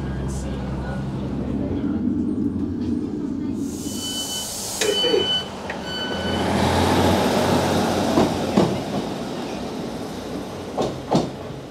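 A train runs along a railway line in northern England near Sellafield with a steady rumble and rhythmic clicks of the wheels, interrupted by brief squeals and knocks, while a person talks over the noise.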